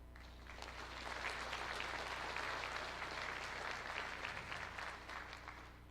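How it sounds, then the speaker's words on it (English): Audience applause fills a senior awards night as a scholarship recipient stands, steady dense clapping from a large crowd that stays loud and even throughout, with no talking over it. "you can stand so we can give you a round of applause"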